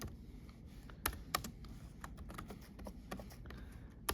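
Typing on a computer keyboard into a Word document, a quiet, irregular patter of key taps with a few sharper, louder keystrokes standing out, close and unaccompanied by talk.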